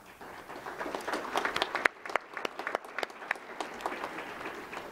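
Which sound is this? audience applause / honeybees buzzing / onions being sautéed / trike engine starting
audience applause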